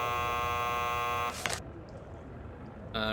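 A harsh, loud electronic buzzer drones for over a second, then cuts off with a short noisy burst, leaving a quiet hum: a buzzer cue in the video game Nancy Drew: The Phantom of Venice.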